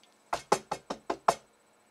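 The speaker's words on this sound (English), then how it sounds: "I was just knocking on my desk" Six quick, sharp raps on a desk, evenly spaced and close, standing alone in near silence.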